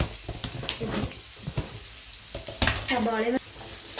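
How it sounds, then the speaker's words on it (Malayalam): Onion, garlic and curry leaves fry in coconut oil in a pan, giving a soft, close sizzle broken by scraping stirs of a spoon. "കുറച്ച് സബോളയും 3-4 അല്ലി വെളുത്തുള്ളിയും കുറച്ച് വേപ്പിലയും ഇട്ട് ഏകദേശം കളർ മാറി വന്നിട്ടുണ്ട്"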